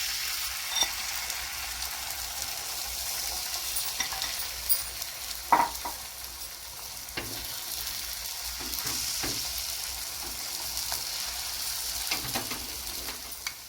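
Egg omelette layer frying in oil in a pan, a soft steady sizzle with occasional light clinks and scrapes of a utensil.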